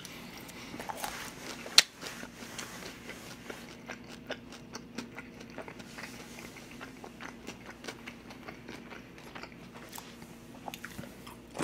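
Crunchy fried chicken bitten and chewed up close, a long run of crisp crackling bites and chewing clicks, fairly quiet, with one sharper crunch early on and no talking.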